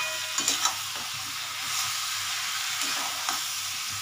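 Potato, cauliflower, pumpkin and capsicum with spices fry in oil for a prawn curry, giving a soft continuous sizzle with a few sharp clinks and scrapes of a stirring spoon against the pan, fairly quiet and without voices.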